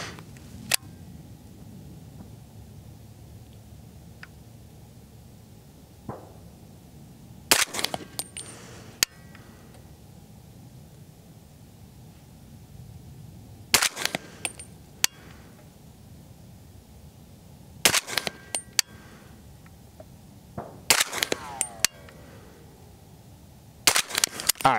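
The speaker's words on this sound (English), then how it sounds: "we'll shoot the best group we can" Shots from a PSA JAKL .300 Blackout rifle at a range, a series of sharp, loud cracks spaced several seconds apart, some in quick pairs, over quiet outdoor ambience.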